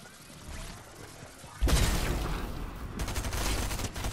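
Gunfire from the Fortnite mythic railgun: a quiet stretch of distant action, then a loud sudden blast around the middle followed by sustained booming and crackling bursts, with a second surge of heavy firing near the end.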